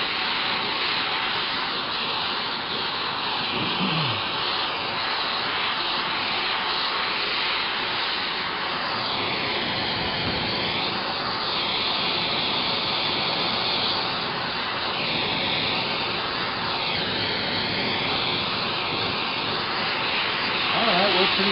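An oxy-acetylene rosebud heating torch burns with a loud, steady roaring hiss that holds for the whole stretch, close by, with slight shifts in tone as the flame moves.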